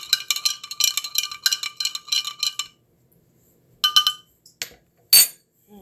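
A spoon stirs salt water in a container, giving rapid, bright clinking and scraping strikes in bursts, a pause, then a few more sharp clinks, close and alone.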